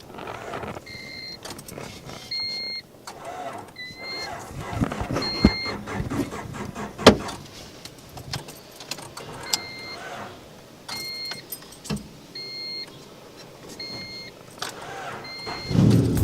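A car engine is cranked and started while in gear, with a steady mechanical rumble and whirring, a few clunks and repeated short high tones, and a louder jolt near the end. No one speaks.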